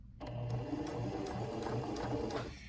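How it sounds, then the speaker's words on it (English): A sewing machine runs steadily through a straight stitch, its motor giving a rhythmic, even whir with regular pulses, fairly quiet and close, with no talk. "So we'll do a straight stitch first."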